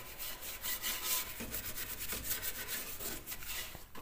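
A cloth rubs ordinary bleach into wooden folding loft stairs with a handrail, giving quiet, rhythmic scrubbing strokes close to the microphone.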